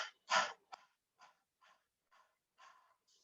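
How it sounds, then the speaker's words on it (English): Short forceful exhalations pushed from the stomach in a yoga warm-up: one strong breath followed by a string of evenly spaced, softer puffs through the nose, close and clear with no talking. "Breathing in, we're going to breathe out and do short bursts with our stomach."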